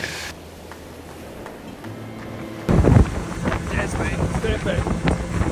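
Wind rumbles against the microphone, quiet at first and then gusting hard and loud about halfway through, buffeting continuously to the end.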